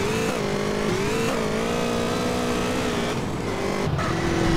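A car drives through the countryside in GTA: San Andreas, its engine droning steadily and loudly, rising and falling in pitch with gear changes, alone with no talking.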